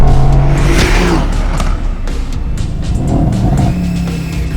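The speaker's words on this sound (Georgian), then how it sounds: "8 ცილინდრიანი ბიტურბო," A Mercedes-AMG GT S Edition One with a front-mid-mounted twin-turbo V8 and Getrag gearbox revs loudly and close, its deep engine roar rising and falling continuously without talk.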